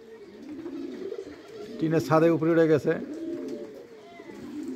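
Pigeons let out during rain, some perched on a tin roof, give a burst of close, throaty cooing over about a second. Someone talks over a soft background hiss.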